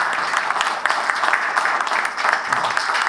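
Applause from a panel discussion audience on human rights and U.S. foreign policy as a panelist leaves, steady moderate clapping throughout with faint voices underneath.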